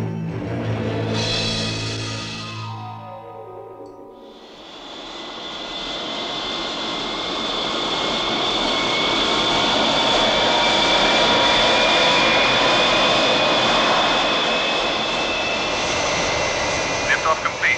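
A spacecraft lifts off with a huge, sustained engine roar that swells after a brief lull and holds loud and dense throughout, a science-fiction launch from the 1980 film Invasion: UFO.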